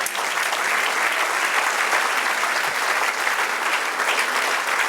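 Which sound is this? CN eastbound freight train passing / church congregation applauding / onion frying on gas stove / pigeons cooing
church congregation applauding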